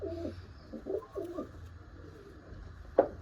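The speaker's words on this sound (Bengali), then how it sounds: "এগুলো সিনিয়র পায়রা, প্রচুর পুরনো পায়রা।" Several soft, low pigeon coos repeat in short phrases close by, then a brief sharper call near the end, over a quiet background hum.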